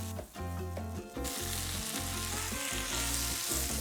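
Sliced fajita vegetables with seasoning sizzle loudly and steadily in a hot pan, a dense close frying hiss that brightens after a moment of stirring, with no talking.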